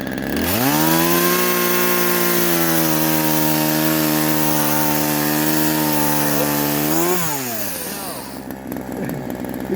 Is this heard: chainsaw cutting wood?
yes